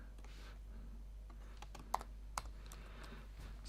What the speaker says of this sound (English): let's select this text again and type something in